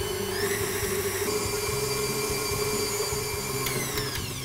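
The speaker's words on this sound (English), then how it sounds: "then just speed that up to medium and beat that together for about 30 seconds to a minute" An electric mixer runs steadily at medium speed, beating egg and vanilla into cookie dough with a loud, constant whirring motor tone and no pauses or talk.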